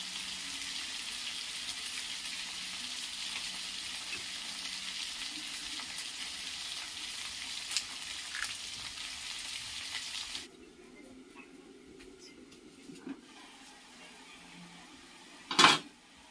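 Fish frying in a pan from the family's own pond, a steady close sizzle for about ten seconds that then drops to a faint simmer, with a sharp clatter near the end and no talking.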